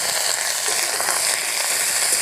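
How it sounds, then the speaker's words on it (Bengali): Pointed gourd pieces frying in hot oil in a wok for a rustic home-style prawn dish, giving a steady, close, even sizzle that holds throughout with no talking. "কড়াই যে তেল আছে এই তেলে আমি পটলগুলো ভেজে নেব।"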